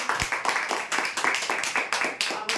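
A crowd claps for Sanjay Pande at a lottery draw, the applause coming in steady rhythmic bursts of hand claps that are close and lively throughout.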